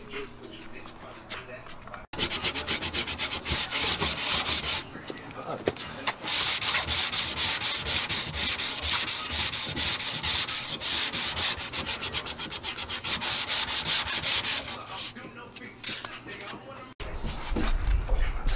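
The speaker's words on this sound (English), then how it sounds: "So now, since this side is dry, I'm gonna go ahead and start sanding this side." Sanding of cured Bondo body filler on a car panel, a loud, steady rasping rub that runs almost without a break, with short pauses at the start and near the end.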